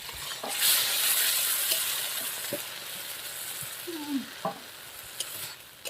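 Spice paste for a fish curry sizzling in hot oil while it is stirred, a constant frying hiss with occasional scrapes and light clinks of a spoon against the pan.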